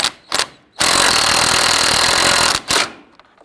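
Loud whirring burst of a power tool tightening the harmonic balancer bolt on a 1999-2004 Jeep Grand Cherokee 4.7L V8, a short blip followed by a sustained two-second run, then another brief burst.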